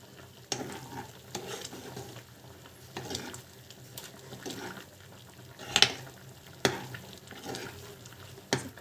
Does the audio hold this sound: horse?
no